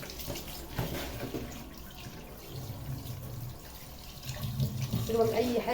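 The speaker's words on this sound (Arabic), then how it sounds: "بصوا بقى هنولع عليه ميه كده اهو." Tap water runs steadily into a kitchen sink over a piece of meat being rinsed, a continuous close splashing hiss that swells louder toward the end, with no voices over it.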